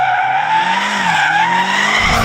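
Car tyres skidding in a sustained, loud squeal as the car slides sideways, the pitch wavering, with a low engine note underneath and a sudden rumble near the end.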